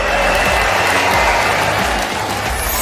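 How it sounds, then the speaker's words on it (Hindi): Loud, dense roar of applause from a large crowd at a company's 20th anniversary event, continuous and saturated throughout with heavy low rumble underneath. "तो हो जाए जोरदार तालियां"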